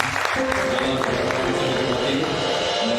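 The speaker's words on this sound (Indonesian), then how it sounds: "Saudara-saudara semua berikan tepuk tangan" A congregation at a Sunday worship service claps steadily and continuously for about three seconds, with sustained tones ringing underneath.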